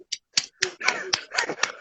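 Hand claps in quick succession, sharp and close, several spaced beats over a couple of seconds with no talking.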